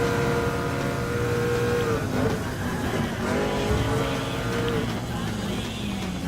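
Race car engines in the Gran Turismo Sport video game, a Jaguar among them: continuous loud engine drone with shifting pitch as cars accelerate and pass, steady throughout.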